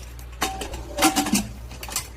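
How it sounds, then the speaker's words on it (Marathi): A metal pressure cooker lid clanks and scrapes into place, a few short knocks and rattles close by, with no voices. "आता आपण कुकरचं झाकण लावून घेऊया."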